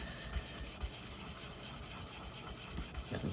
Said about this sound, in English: I'll use a sanding pad to see if I can get it